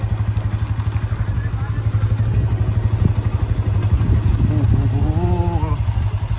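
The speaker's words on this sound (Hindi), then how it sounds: "ट्रैक्टर आ रहो है यार" A tractor approaches on a village road, its low diesel engine thumping in a fast, even pulse close by throughout, while someone talks over it.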